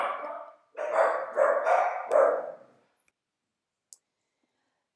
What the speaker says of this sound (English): apologize for my dogs.